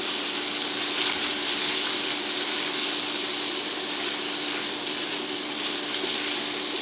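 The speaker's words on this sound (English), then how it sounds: "I'm going to go ahead and add the onions and the garlic" Onions and garlic fry in a pan, giving a loud, continuous hiss and sizzle close up with no breaks and no talking.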